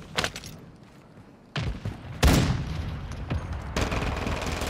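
Automatic pistol gunfire in a video game, with rapid bursts and sharp loud shots in several clusters, close and punchy.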